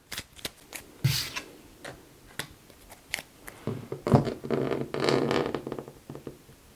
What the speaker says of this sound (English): let me shuffle so I can draw back up to my 6